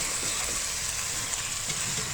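Chicken frying in a pan as potatoes are added, a steady close hiss of sizzling oil with faint stirring scrapes, no talking.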